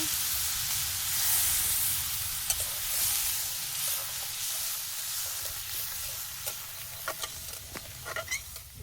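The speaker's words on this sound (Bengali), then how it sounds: "আমি এখন ঝোলটা দিয়ে দিচ্ছি, জল দিয়ে দিচ্ছি" Koi fish curry on a riverside village fire as water is poured into the hot spiced pan, giving a soft continuous sizzle and hiss with a few light stirring knocks near the end, no talking.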